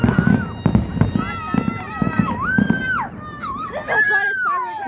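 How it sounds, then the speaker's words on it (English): Fireworks burst during a school's finale show, with several sharp pops and crackles under excited voices and shrieks that carry on throughout. "This is the brightest firework I've ever seen."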